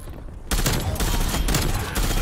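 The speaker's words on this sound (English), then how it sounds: "I thought that was a teammate who was shooting at me" Rapid, sustained M16 rifle fire in Call of Duty Black Ops Cold War on the Nuketown map, loud and close after a brief quiet start, continuing dense and unbroken.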